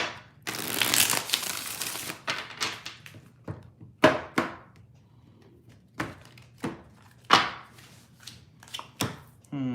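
A deck of tarot cards is handled up close: one long riffle at the start, then a string of sharp individual taps and thumps of the deck being squared and cut, spaced irregularly.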